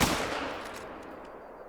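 A single sharp .270 rifle shot cracks out in a hunting video game, followed by a fading echo that trails away over about a second and a half.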